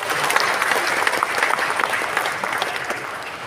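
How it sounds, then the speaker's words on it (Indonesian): A crowd at a martial arts organization's board inauguration claps enthusiastically, dense applause that holds steady and begins to taper toward the end. "Tepuk tangan buat perguruan ini"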